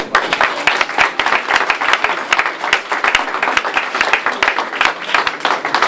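Loud, sustained applause from a crowd at a community center ribbon-cutting ceremony, dense rapid clapping filling the whole stretch without letup.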